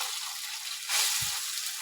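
Food sizzling in hot ghee in a pan with the flame just turned off, a soft steady hiss that swells briefly midway, joined by a low dull thump.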